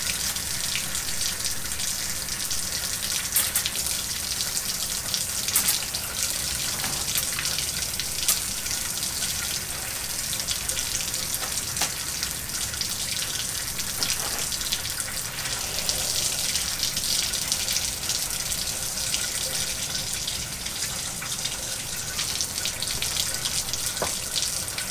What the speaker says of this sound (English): turned on the hose, gave a little bit